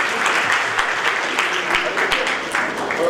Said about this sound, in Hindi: एक बार जोरदार तालियां बजाकर हम बिल्कुल बहुत स्वागत और अभिवादन करें